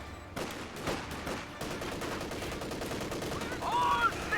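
Rifle gunfire crackling in the World War II strategy game Company of Heroes 2, rapid bursts of shots early then a denser battle din, fairly faint and mixed under a commentator's voice.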